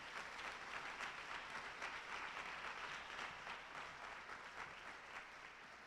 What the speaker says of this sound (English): So round of applause for Ms.